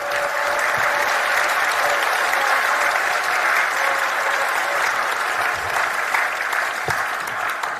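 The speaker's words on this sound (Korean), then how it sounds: "박수로 맞아주십시오." Steady, full audience applause at a Korean church gathering as a lawmaker is welcomed to the podium, continuous and even across the whole stretch with no talking.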